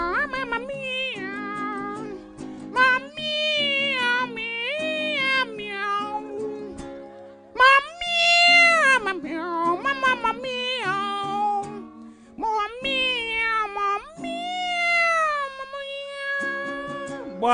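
A performer's voice imitates a cat meowing in a stage production, giving a long string of drawn-out, swooping meows one after another, loud and close, with short pauses between them.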